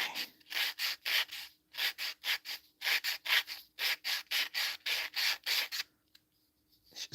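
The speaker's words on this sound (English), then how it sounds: "It's where I need a little drum sander, little spindle sanders." Hand sanding of a wood craft piece, rhythmic back-and-forth scraping strokes in quick, even bursts with short pauses, close and fairly quiet, ending in near silence.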